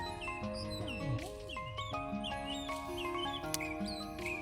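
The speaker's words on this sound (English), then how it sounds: "I love the sweet sound of the birds." Several birds chirp and whistle in the woods on a morning walk near a cabin, with bright repeated tweets and sliding calls layered over a steady tonal background hum throughout.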